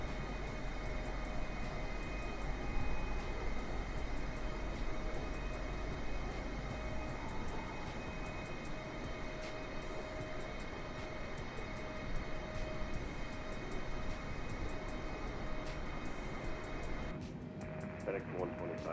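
An aircraft lands at an airport in a flight simulator game, with a steady, loud engine drone and whine running throughout beneath people talking.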